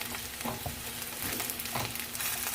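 Bacon fries in a pan with a loud, dense, continuous sizzle and crackle, and a few soft stirring knocks come through it.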